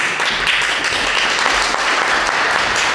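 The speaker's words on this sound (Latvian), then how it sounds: "Jums par dziedāšanu aplausi" Audience applause after a singing performance, continuous close clapping at steady volume throughout the three seconds.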